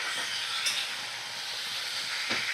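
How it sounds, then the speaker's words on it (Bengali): Vegetables frying in mustard oil over a medium flame give a steady, close hissing sizzle throughout, with a couple of brief clatters. "সবজিটা আমি ভাজা করে নিচ্ছি এটা সর্ষের তেলেই রান্না করতে হবে"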